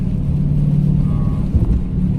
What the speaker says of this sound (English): just cruising in the rain